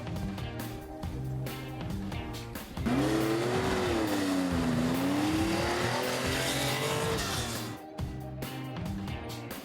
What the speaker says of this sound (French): l'African Safari Rally Classic était déjà sous l'emprise d'anciens ténors du rallye comme Stig Blomqvist et sa Porsche 911 numéro 5 ou encore Björn Waldegard.